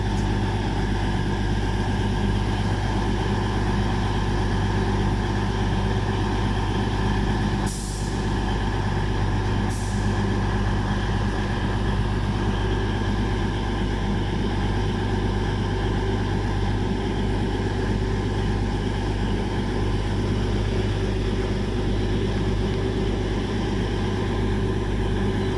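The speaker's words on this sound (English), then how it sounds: "You got to hear a 221 start its engine." Class 221 diesel train idling at a platform, a loud steady engine drone with a constant low rumble throughout and two brief sharp hisses early on.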